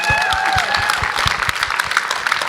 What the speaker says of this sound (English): Yes, I'm glad you're clapping.